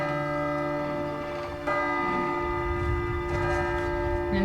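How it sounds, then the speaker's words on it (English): Church bells in the Midnight Mass series ring with sustained, layered tolling tones at moderate volume, with some low background rumble and faint movement underneath. "he's using church bells to be like, everybody, dawn's a coming"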